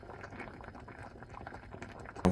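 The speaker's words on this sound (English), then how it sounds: "Just let it boil for about 20 minutes to pasteurize." Water boils in a pot to pasteurize cardboard for growing shiitake mushrooms, a continuous low bubbling and rumbling at moderate level, with a short sharp knock at the very end.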